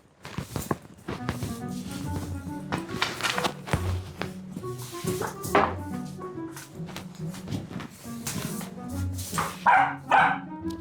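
A puppy barks repeatedly in short bursts at a broom indoors, with yips and scuffling footsteps mixed in throughout, close and fairly loud.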